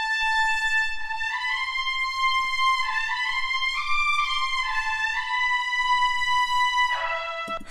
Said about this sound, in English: So for the brass here, what I did was I used the Cinebrass trumpet ensemble